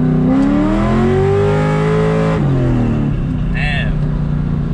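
A cammed 2004 Ford Mustang Mach 1 running on E85 accelerates hard from inside the car, its loud, lopey engine climbing steadily in pitch through a gear, then dropping back as the driver shifts and keeps pulling.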